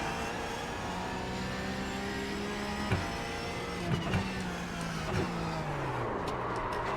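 A race car engine in the iRacing or Assetto Corsa sim racing game, its tone rising and falling through gear shifts as the car runs on cold tyres, steady and prominent with brief clunks at each shift.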